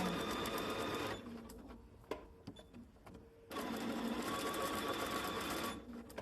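A home sewing machine stitches in a steady, dense whir, running for about a second, pausing with a few light clicks, then running again for a longer stretch; close, moderately quiet, no talk.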